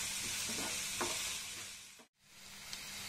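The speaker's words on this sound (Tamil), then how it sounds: "நல்லா வதங்கட்டும்." Chopped onions and green chillies sauté in a hot pan for an Indian egg gravy: a steady, close sizzle of frying with occasional stirring scrapes, briefly cut off near the middle before resuming.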